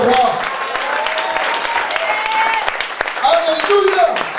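A church congregation applauding: sustained, dense clapping from a crowd fills the space, with raised voices and cheers mixed in throughout.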